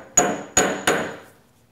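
A hammer knocks three times on C110 copper soft jaws clamped in a machinist's vise: loud, sharp, close strikes with a bright metallic ring that fades after each blow, the last ring lingering longest.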